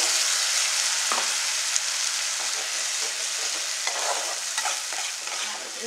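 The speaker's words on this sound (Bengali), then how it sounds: "এই মশলাটা এর মধ্যে ভালো করে কষাবো।" A spice paste of onion, ginger, garlic, green chili and a little cumin stir-fries in a pan, with continuous loud sizzling and occasional scraping stirs, no talking.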